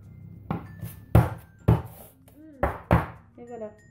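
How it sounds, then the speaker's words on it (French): A cake pan of chocolate speculoos batter is tapped on a hard surface to knock out air bubbles, giving five sharp metallic thunks with short ringing tails, close up amid quiet kitchen sounds. "Je vais tapoter un petit peu."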